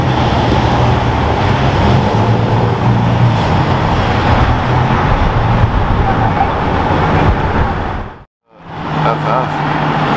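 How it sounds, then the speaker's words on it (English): A BMW M3 and a Rolls-Royce pass close by with loud, continuous engine and road roar, the sound cutting out abruptly near the end before traffic noise returns. "We got this really crazy M3 and a Rolls Royce. Listen to that."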